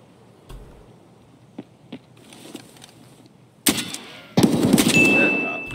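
Burst of gunfire from Escape From Tarkov, a few faint isolated taps first, then loud, dense automatic shots ringing out near and alone.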